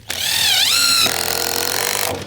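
Power saw cutting lumber for a boat superstructure, a loud continuous whine that dips and rises in pitch before settling into a steady cut for about two seconds, alone with no talk.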